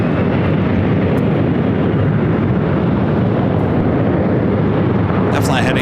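A SkyWest Embraer E175 jet takes off from runway 24 left at LAX, a loud, steady, broadband engine roar holding throughout with a voice faintly underneath.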